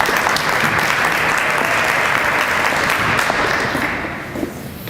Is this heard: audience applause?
yes